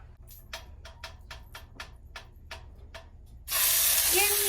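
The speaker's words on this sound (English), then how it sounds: "Add salmon into hot pan. Skin side up." A bright, loud hiss bursts out as salmon lands skin side up in a hot nonstick pan with olive oil, coming after a run of sharp, evenly spaced clicks.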